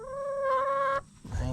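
A chicken clucks close by in a drawn-out, wavering call that breaks off, followed by a soft low rustle with no talking.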